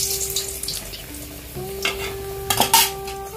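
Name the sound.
singaras (samosas) frying in a pan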